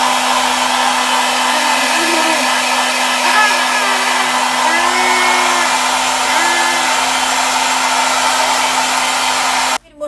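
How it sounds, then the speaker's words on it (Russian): Hair dryer on medium heat and fan, a loud steady whir with a constant motor hum, running unbroken until it cuts off abruptly at the end. "Кстати, волосы я всегда сушу, ну, максимум вентилятор и на среднем."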